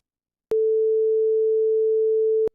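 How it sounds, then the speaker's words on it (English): A pure two-second sine wave tone, rendered in REAPER by an AI system, plays as a single steady mid-pitched beep with abrupt start and stop clicks, alone in silence. "that's a fairly unremarkable 2-second sine wave"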